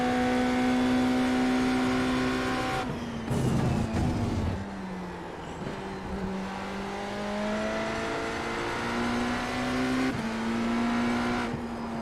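Hypercar engine in a racing video game at Catalunya, revving hard with steady high-pitched harmonics, dipping briefly on downshifts before climbing again under acceleration, loud and continuous with faint tire noise.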